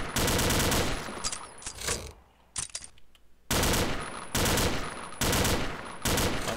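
Repeated bursts of M16 gunfire in the Combat Arms shooter game, loud and close, firing in long rapid strings with a brief lull in the middle before the bursts resume.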